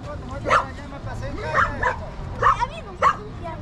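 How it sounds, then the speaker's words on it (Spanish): Dogs at the Laguna de Yambo tourist site in Cotopaxi give four short, sharp barks and yips, some with a whimpering edge, spaced about a second apart outdoors, with faint voices and background noise. "lo que más encontramos aquí son perros"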